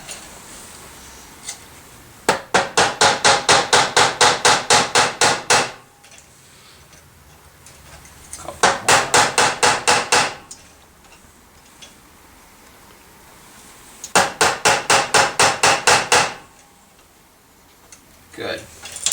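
Rivets being hammered while assembling a Victorinox Spartan Swiss Army knife: three loud bursts of rapid, evenly spaced metallic taps separated by quiet pauses.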